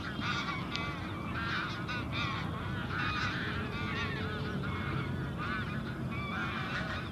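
A large flock of geese at a wetland bird sanctuary honks continuously, dense overlapping calls filling the air at moderate distance with no talk over them.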